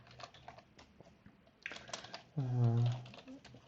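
Python test code typed on a computer keyboard gives quick, soft, close keystroke clicks, followed by a brief voice near the end.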